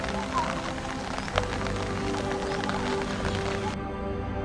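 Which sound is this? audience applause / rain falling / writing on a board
rain falling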